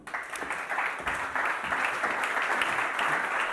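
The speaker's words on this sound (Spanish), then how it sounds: "Vamos a dar un aplauso." A crowd applauds steadily for a few seconds, a dense patter of many hands clapping at moderate distance.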